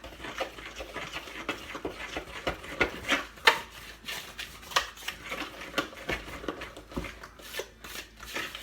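Muffin batter with cinnamon chips stirred in a bowl, a soft scraping and shuffling rub repeating unevenly at close range, fairly quiet with occasional louder strokes.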